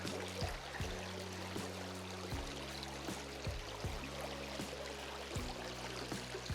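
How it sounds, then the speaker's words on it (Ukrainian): A babbling river stream runs steadily over stones, with bubbling and trickling throughout, fairly close and continuous with no voices. "Вода журчить."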